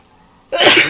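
A single sharp sneeze bursts out abruptly after near silence, loud and close, with a breathy, explosive release.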